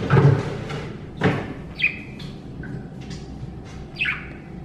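Small pet birds chirp and tweet in short, bright calls, a few scattered notes over a soft background hum.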